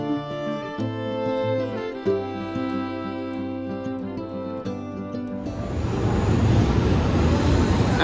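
An express train from Kolkata to Jabalpur runs along the line, heard as a loud, steady rumbling roar that begins in the last few seconds after a stretch of melodic music.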